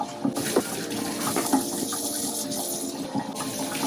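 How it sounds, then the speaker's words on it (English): Tap water gushes steadily in a sink, rinsing grime and crud from an aquarium filter and its impeller, a constant close splashing with no speech. "I like to run some water through the impeller just to clean whatever crud may be in there out"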